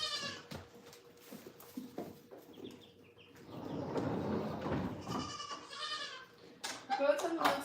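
Goats bleat repeatedly at the milk stand during milking, several close, wavering cries mixed with farmyard rustling and a person talking.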